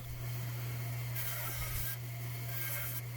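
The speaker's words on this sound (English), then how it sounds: "I'm just going to cut off all the branches and get reasonable sized chunks." Pine tree branches being cut into chunks, rasping saw strokes in bursts over a steady low hum, close and fairly loud.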